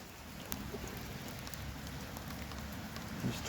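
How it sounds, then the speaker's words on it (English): Rain falling steadily with roof runoff draining into a sump pit, a soft, even hiss with faint scattered drips and trickles, quiet and distant. "There's 20 minutes of rain from the roof."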